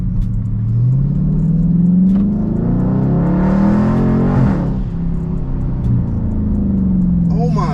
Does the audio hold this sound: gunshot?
no